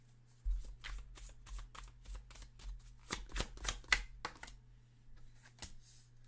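Tarot cards are shuffled and drawn close by in a quiet room, a string of crisp riffling bursts and soft card slaps with short pauses between them.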